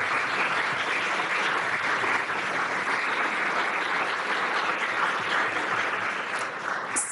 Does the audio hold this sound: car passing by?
no